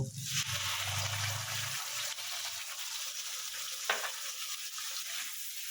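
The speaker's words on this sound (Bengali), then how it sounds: "এরপরে আমি এই টমেটো পেস্টটা দিয়ে দেব।" Tomato paste dropped into cumin and coriander powder frying in oil in a pan, giving a loud close sizzle that surges at first and then settles into a steady hiss, with a brief stirring scrape partway through.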